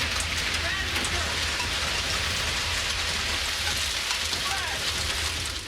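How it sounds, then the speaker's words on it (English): Hail drums on a car roof during a storm, making a dense, continuous roar of impacts that fills the car's interior. The sound is loud and steady throughout, with faint voices mixed in underneath. "Being in a car in a hailstorm is like nothing else. It is so loud."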